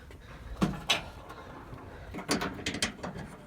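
Screws are driven back into a Toyota Tundra liftgate latch handle, a few close mechanical clicks and ratcheting rasps with scattered small knocks and handling noise.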